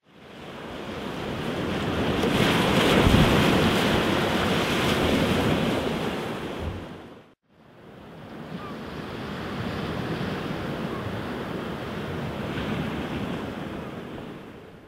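Storm wind and waves at the Sønderballe boat harbour, a loud continuous roar of gusting wind buffeting the microphone over surf, briefly dropping out midway before resuming.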